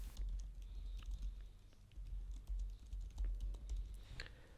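Computer keyboard typing as an email address is entered, a steady run of soft, quick key clicks close by with no talk.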